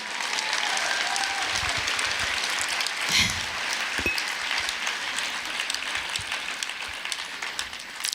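A large audience claps steadily at a business talk, the dense, continuous applause filling the whole stretch at close range without any voice.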